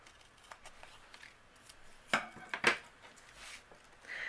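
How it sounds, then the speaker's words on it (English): Scissors trim overhanging paper on a handmade card with a few quick snips and crisp cuts, heard close against quiet room noise and without any voices. "I'll trim away what's overhanging here."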